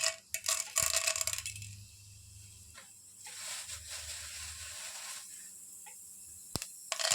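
Tempering spices drop into two spoons of hot ghee in a pan, giving bright bursts of sizzling and crackle that come and go in close, fairly loud waves.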